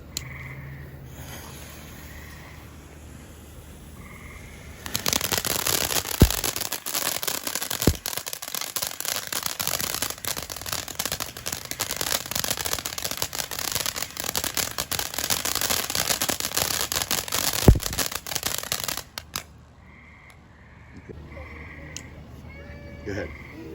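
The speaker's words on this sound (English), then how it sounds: "We're going to start with Galactic Stardust, work our way down to the fire fountain." A Phantom Fireworks Galactic Stardust fountain burns with a loud, steady hiss and crackle for about fifteen seconds, starting abruptly and cutting off, with a few sharp pops along the way and quiet surroundings before and after.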